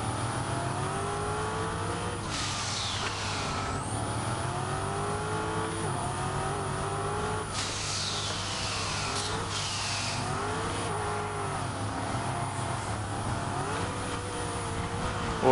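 Engine of a Citroën 2CV revving in the racing game Test Drive Unlimited Solar Crown, a steady droning motor with rising and falling pitch sweeps as it accelerates and shifts, loud and continuous throughout.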